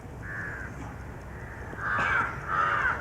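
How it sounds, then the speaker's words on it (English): A crow caws outdoors during a public talk in Madras, with one short call followed by two louder harsh caws in quick succession over a low background hum. "Listen to that crow."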